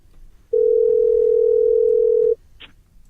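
A steady, pure dial tone on a radio show's phone line, holding for about two seconds and then cutting off cleanly, followed by a brief faint click.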